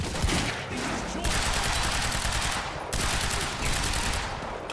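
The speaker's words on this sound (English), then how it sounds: "One shot, one kill. This pistol doesn't mess about." Heavy pistol gunfire in the video game Quantum Break comes as loud, dense bursts of shots with brief gaps between them, close and continuous.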